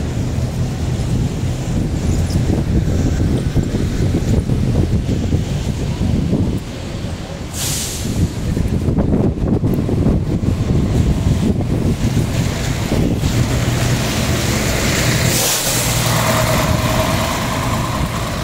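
Strong wind blows steadily on a street in Aberdeen, buffeting the microphone with loud, continuous roaring gusts.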